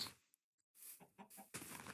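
Chickens clucking in short soft bursts, close and fairly quiet, with brief gaps of silence between.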